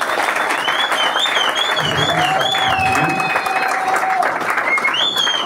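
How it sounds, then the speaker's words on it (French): A seated assembly claps for the speakers at the close of a conference, steady and dense throughout, with whistling tones and faint voices and murmurs woven through the applause. "je demande à l'assistance d'applaudir pour tous les intervenants."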